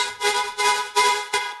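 Quanta synth with reverb, distortion and EQ plays four evenly spaced bright, gritty chord stabs, each swelling and fading quickly, loud and alone.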